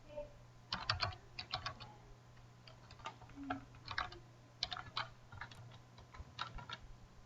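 Fast typing on a computer keyboard, with irregular bursts of clustered key clicks at close range over a steady low hum, no talking.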